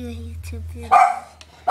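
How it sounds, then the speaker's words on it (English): A dog barks in short sharp yips close by, mixed with a person's speech. "Sorry about the barking."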